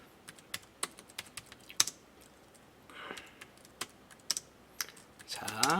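Typing on a computer keyboard, a close series of irregular crisp key clicks with short pauses, ending in a quick flurry of taps.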